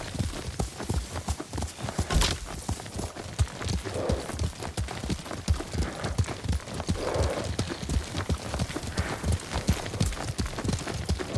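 Hooves clop steadily at a brisk, even rhythm as a horse rides along in the video game Ghost of Tsushima, close and continuous with no voices.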